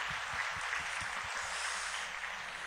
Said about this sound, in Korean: 우리 젊은이들 다시 한번 격려하면서 축복하면서 박수합시다.